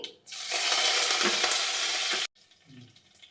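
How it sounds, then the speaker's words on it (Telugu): Mustard seeds, cumin and curry leaves dropped into hot oil give a loud, sudden crackling sizzle that holds steady for about two seconds, then cuts off sharply to a faint, quiet tail. "దాంతోపాటు ఒక హాఫ్ స్పూన్ ఆవాలు ఒక హాఫ్ స్పూన్ జీలకర్ర కరివేపాకు వేసుకుందామండి"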